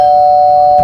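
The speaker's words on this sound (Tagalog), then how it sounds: "May nag-doorbell?" A single loud doorbell tone rings steadily and close by for under a second, clean and electronic, with no voices over it.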